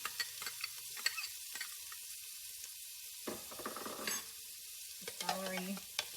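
Chopped onion sizzles in a pot as the base for clam chowder, with intermittent scraping stirs. The sizzle stays quiet and steady and the spoon strokes come in short bursts, with no talk.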